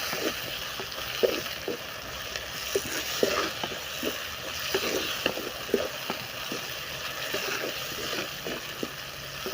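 Chopped tomatoes sizzle in a pan with fried onions, chilli and garlic for a fish curry base, a continuous close crackle with regular scraping stirs breaking through it.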